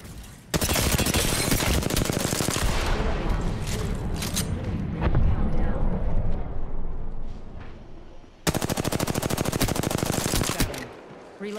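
Rapid automatic gunfire in Apex Legends, with two long, loud sustained bursts of firing split by a short gap of lower-level combat noise and impacts.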